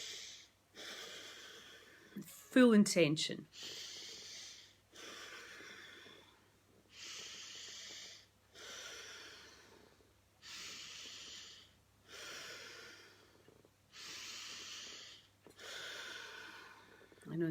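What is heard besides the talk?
breathing in during a guided breathing exercise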